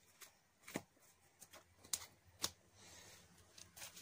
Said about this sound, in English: Alright, now let me shuffle the deck.